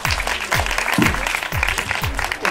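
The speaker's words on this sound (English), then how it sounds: "Big, big applause," An audience breaks into sustained applause for a newly elected ladies' association president, a dense continuous wash of clapping with a repeating low thump running beneath it.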